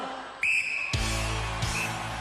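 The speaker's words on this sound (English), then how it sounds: "The whistles are together, and so are Brian and Alan." A referee's whistle at a 1993 Gladiators event gives a sustained shrill blast, then a sharp impact and clatter follow, with a second short whistle under the continuing arena noise.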